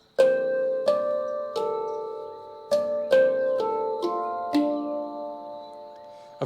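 One-handed flams played on the tuned notes of a handpan, about eight quick double-hit strikes at an uneven pace, each ringing out with a clear, resonant metallic tone up close.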